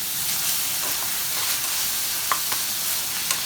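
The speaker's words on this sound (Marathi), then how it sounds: "आता हा मी कांदा शिजवून घेणार आहे." Onion frying in a pan with ginger garlic paste gives off a steady hissing sizzle, with a few faint utensil taps now and then and no speech.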